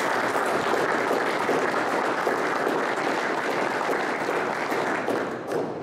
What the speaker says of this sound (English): So I would really like to give the Senator a round of applause for that.